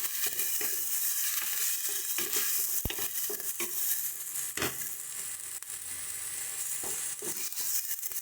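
Onion paste frying with spices in a pan, a continuous sizzle broken by occasional stirring and scraping knocks, close and steady with no talking.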